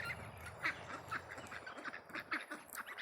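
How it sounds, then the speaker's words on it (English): Ducks on a small farm quack repeatedly by the water while drinking, with short, fairly close calls that come in an irregular run and no talking. "Ducks are over here enjoying the water and getting a little drink."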